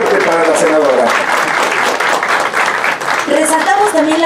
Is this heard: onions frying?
no